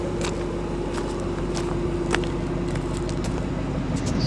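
A white 2012 Ford Shelby Mustang GT500 coupe idles at a dealership in Laconia, giving off a steady, close, low engine rumble that holds evenly for the whole stretch, with faint clicks on top.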